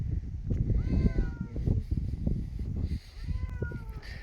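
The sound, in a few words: cat meowing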